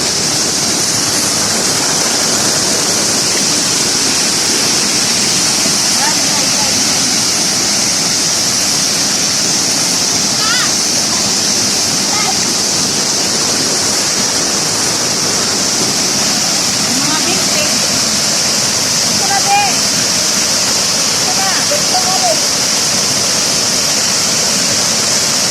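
Water pours over the Floam dam in a loud, continuous broadband roar that stays steady throughout, with faint voices barely audible beneath it.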